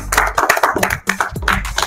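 A small group claps loudly and close by during a funny party game, a fast, slightly uneven burst of hand claps with a brief pause in the middle before resuming.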